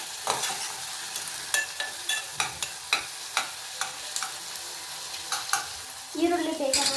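Onions fry in a pan with salt added, a soft steady sizzle under repeated scraping taps of a spatula stirring, close and moderate, ending with a louder burst of frying.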